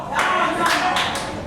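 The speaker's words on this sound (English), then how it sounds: "Please applaud now for the game of your choosing" A burst of audience applause and cheering at a ComedySportz improv comedy show, loud clapping swelling in waves over about a second and a half.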